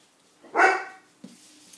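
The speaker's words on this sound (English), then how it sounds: "my dog hears someone outside." A dog gives one loud, sharp bark indoors at someone heard outside, followed by a short quieter yip, with stillness around it.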